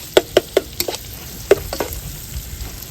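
Italian sausage browns in butter in a pan with a steady low sizzle, broken by a few sharp utensil taps and scrapes in quick succession near the start and again midway.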